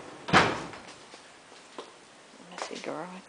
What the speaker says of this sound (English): now I'm going to go in there and shut that door.